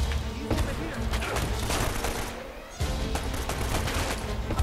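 Rapid gunfire and explosive bursts from Uncharted: Drake's Fortune, a video game, crackle steadily throughout with a brief lull near the middle, loud and close, with faint talk mixed in.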